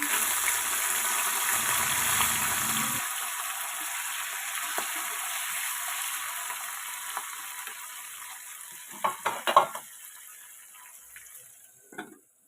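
Green chillies fry in oil with a steady hiss that slowly fades, followed by a few clattering stirs near the end and a last scrape of a utensil.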